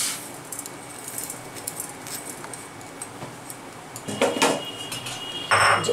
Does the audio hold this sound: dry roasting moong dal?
yes